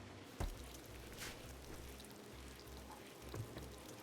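Steady rain pattering and hissing in a video game base-building scene, an even wash of drops with a few isolated heavier splats, soft and continuous with no voices.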